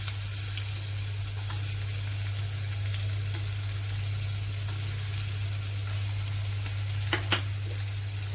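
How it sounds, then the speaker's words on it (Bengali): Dried red chillies, garlic, onion and green chilli fry in oil, giving a soft continuous sizzle over a steady low hum, with a couple of faint clicks near the end. "এখন বাকি তেলে 2টা শুকনো মরিচ দিয়ে দিলাম ভাজার জন্য।"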